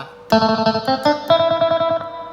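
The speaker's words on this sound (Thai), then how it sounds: "พินโปร่งนี่พินไฟฟ้า" An electric phin lute, sampled on a Yamaha PSR-SX keyboard, plays a quick twangy melody with repeated picked notes, heavily processed with chorus-like shimmer and slight distortion.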